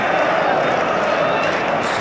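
Dense crowd noise from football fans at an Everton vs Hajduk Split match, a continuous broad roar of voices at a moderate distance with no distinct claps standing out.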